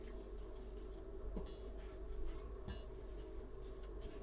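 Cake batter stirred by hand in a bowl for a birthday cake, a close, steady scraping and soft clinking of the utensil against the bowl that carries on without pause.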